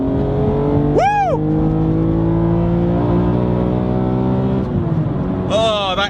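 A 2019 BMW Z4 twin turbo drives on, its engine and intake droning in a steady harmonic hum from inside the car. Excited vocal exclamations briefly rise over the engine sound.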